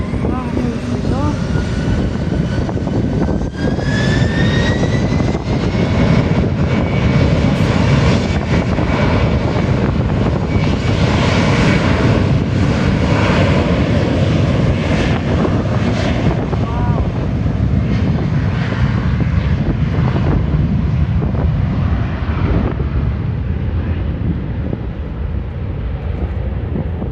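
British Airways airliner taking off at London City Airport, a loud sustained engine roar that swells and rushes across the whole clip, heard from nearby with faint talk underneath.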